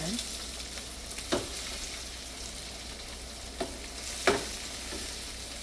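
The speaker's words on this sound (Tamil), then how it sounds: "தாளித்தது பார்த்தீங்களா, பழப்புளி, பாவக்காய், உள்ளி, வெங்காயம், மிளகாய் தாளித்து பெருஞ்சீரகத்தோடு நல்லா இருக்கும்." Bitter gourd, tamarind, garlic, onion, chili and fennel seeds fry in a tempering, with a steady background sizzle and a few sharp stirring clinks and knocks scattered through it.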